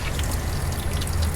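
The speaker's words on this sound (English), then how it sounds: "And we are flushing out the line." Fuel flushing from a fuel line into a bucket on a supercharged 426 HEMI Dodge Dakota, a steady rushing pour that is dense and continuous at close range.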